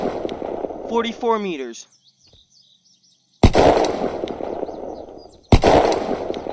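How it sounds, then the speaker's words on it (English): Two loud shotgun blasts from the video game Unturned, each followed by a long rumbling tail, come after someone speaks briefly and a short pause of silence. "now this is the longest range shotgun"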